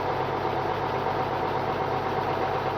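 Tractor engine idling nearby, a steady low rumbling drone with even vibration throughout, no talk over it.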